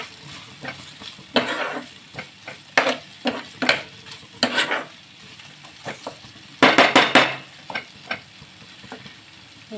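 Okra masala being sautéed and stirred in a pan, with a soft background sizzle broken by irregular scraping strokes of a spoon against the pan, some louder clustered bursts, close up and without talk.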